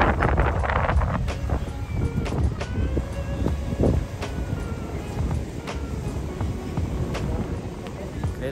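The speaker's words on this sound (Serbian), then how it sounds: "nešto se vetar razduvao danas" Strong wind gusts across a beach in Palma de Mallorca, buffeting the microphone with a constant rumbling roar under a voice.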